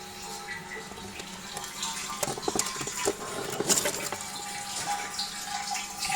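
Water is stirred into ash while cleaning the diesel particulate filter of a VW Passat B8 2.0 TDI EA288, giving faint, close sloshing and trickling with irregular splashy bursts, no talk.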